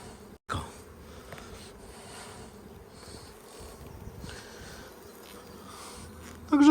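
Honey bees hum steadily around an open hive during an anti-swarming inspection, a low continuous buzz with a brief knock early on and a louder rustle at the end.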